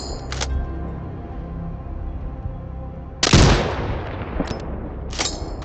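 Sniper rifle fired at targets in the video game Sniper Ghost Warrior Contracts 2: a single loud, sharp shot with a decaying tail, surrounded by a low background hum and a few faint clicks.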